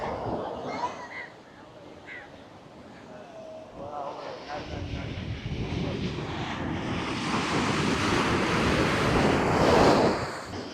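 Broad roar of surf and wind noise builds and swells through the clip at an eroding coastline in Kalmunai, loudest near the end, with faint voices early on.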